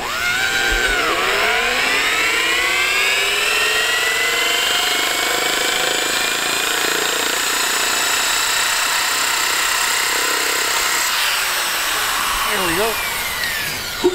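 Heavy flywheel spinning up to about 2,000 RPM, a loud mechanical whine whose tones climb steadily and then hold, with a motor hum underneath and a short voice near the end.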